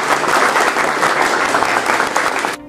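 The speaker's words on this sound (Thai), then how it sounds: "ขออนุญาตพวกเราได้ปรบมือต้อนรับ" Loud, dense applause from an audience greeting a guest speaker at a corporate roundtable event, sustained clapping with no talk over it that cuts off sharply at the end.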